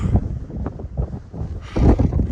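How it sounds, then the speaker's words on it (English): Gusty wind on a cold mountain ridge buffets the microphone in low, rumbling bursts that swell and ease, loudest near the end. "It's windy and it's cold."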